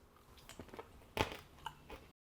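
Someone bites and chews homemade oven-baked French fries cut thin, giving soft, close crunches with one louder bite in the middle and quieter chewing around it.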